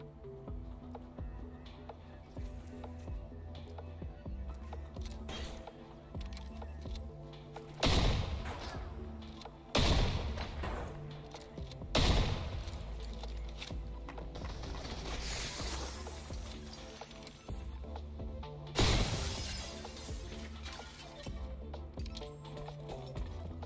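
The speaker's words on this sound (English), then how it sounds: "that's a turret making my life a living hell down there" Turret gunfire in the Selaco video game at Exodus Plaza North, sharp bursts of shots standing out at intervals over a steady backdrop of game sound and music.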